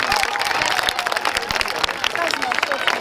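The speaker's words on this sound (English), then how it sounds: "So if you're proud to be a girl, give yourself a clap." Girls at an International Day of the Girl Child gathering clap for themselves, giving scattered, uneven handclaps mixed with crowd murmur and voices.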